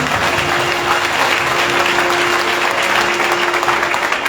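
A congregation at a Sunday church prayer service in Jebel Ali applauds loudly and continuously, thick sustained clapping from many hands with a faint steady tone underneath.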